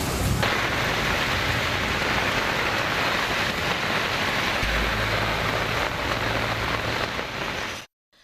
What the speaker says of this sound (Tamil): திருப்பூரில் அரண்மனைப்புத்தூர், காமராஜர் சாலை உள்ளிட்ட பகுதிகளில் மிதமான மழை பெய்தது